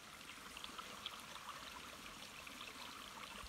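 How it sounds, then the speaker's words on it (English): A mountain stream on a forest trail trickling over rocks, a soft steady babble and hiss of flowing water with faint gurgles, quiet and continuous with no speech. "The mountain stream there full of crawdads."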